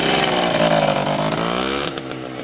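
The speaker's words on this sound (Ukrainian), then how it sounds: "Мотоцикл на пелістковому клапані, друзі, ви бачили" A DKW RT 125 motorcycle with a reed valve engine roars close by, its pitch sliding as it pulls away, then shifts gear and fades slightly.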